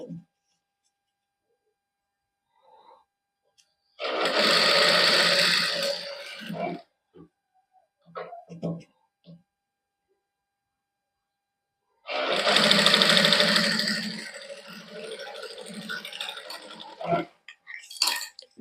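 A sewing machine stitches lace onto the sleeve of a simple suit, running in two sustained bursts of rapid whirring, each a few seconds long, close and loud, with quiet gaps and a few light handling clicks between them.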